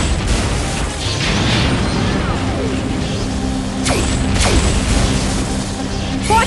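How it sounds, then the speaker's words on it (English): Sci-fi cannon blasts and mechanical whirs from the Morbot in the Transformers Rescue Bots video game, several sharp booming shots and descending laser-like sweeps over a constant loud game soundtrack. "When the Morbot is charging its cannons, it means it'll attack soon!"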